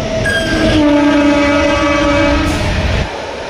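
A train passes loudly and close at Bahanaga, its horn holding sustained tones over a steady rolling rumble for about three seconds before the sound drops away.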